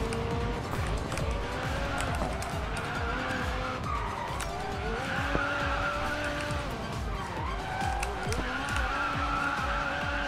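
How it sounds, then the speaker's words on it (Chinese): A McLaren 570S skids through a racing video game, continuous engine drone layered with tire squeal and sliding noise running steadily the whole time, loud and dense with no pauses. "其实他自己就会很容易打滑"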